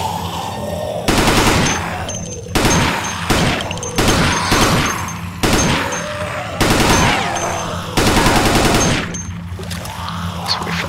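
Weapon fire in the shooter game Dead Effect 2 comes as loud, close bursts of rapid shots. Around six volleys of roughly a second each repeat at a steady rhythm with brief gaps between them, and no one speaks.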